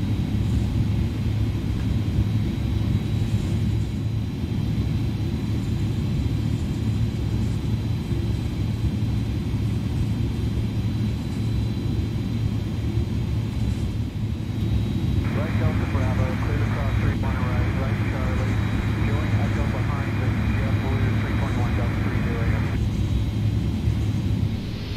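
Airliner engines spooling up for takeoff in Microsoft Flight Simulator at JFK, a continuous low rumbling roar that holds steady throughout, with a radio voice briefly talking over it partway through.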